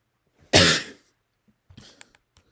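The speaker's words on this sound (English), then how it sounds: "Gotta love the cough. The big cough." A single loud, close cough bursts out, then a few quieter rustles and small noises follow in an otherwise quiet room.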